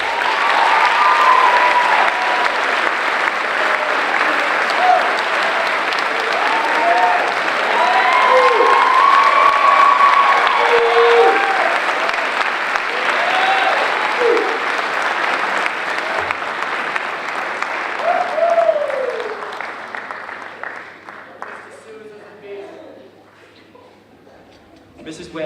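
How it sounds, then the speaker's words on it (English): An audience at a 2019 school class night applauds for a teacher. Dense, sustained clapping and some cheering fill the room for about twenty seconds before thinning out and fading near the end. "Let's give a round of applause for Mrs."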